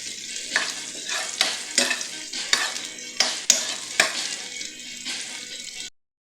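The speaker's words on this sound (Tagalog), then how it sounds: "nagigisa na nga pala tayo ng bawang at sibuyas" Garlic and onion sautéing in a pan for ginisang ampalaya with egg and tomato, a loud close sizzle with rhythmic stirring scrapes, alone without speech, ending abruptly.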